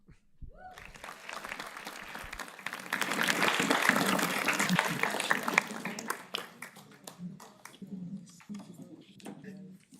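Audience applause at the opening ceremony of an academic event, a dense steady roar of clapping that swells, then thins to scattered claps near the end, with brief talk over it.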